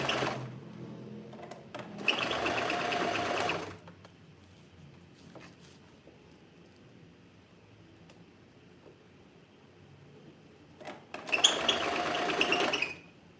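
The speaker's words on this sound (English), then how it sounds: "let us sew" A sewing machine stitches a tiered mini skirt in two bursts, each about one to two seconds of fast whirring, separated by a long quiet pause with faint handling noises.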